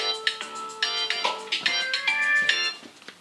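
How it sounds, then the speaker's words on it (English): A phone ringtone plays a bright, chiming electronic melody of quick notes, clear and alone. "That was you on the phone, Asa"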